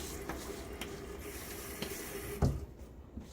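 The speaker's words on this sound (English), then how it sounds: "I am going to splash a little bit of water on my face just to rehydrate" Cold hard water runs from a tap into a sink as someone splashes it onto their face during a winter shave, a quiet continuous trickle broken by a sharper splash near the end.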